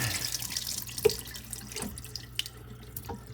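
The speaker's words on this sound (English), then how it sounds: "Then we're just going to rinse the venison off real good." Tap water runs steadily into a sink while venison is rinsed under it, a soft continuous splash broken by a few louder drips and knocks.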